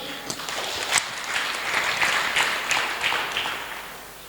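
A church congregation at a Sunday service bursts into steady applause, a dense wash of many hands clapping together for several seconds, fairly close and unbroken.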